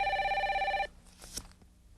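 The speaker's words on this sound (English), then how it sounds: "That's my holster phone." A holster phone rings with an electronic bell tone for about a second, then cuts off, followed by faint rustling and a short clunk as it is answered.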